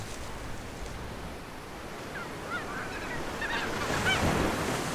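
Emperor geese honk faintly in scattered calls over a steady wash of wind and surf at an Alaskan lagoon, the calls growing a little busier toward the end.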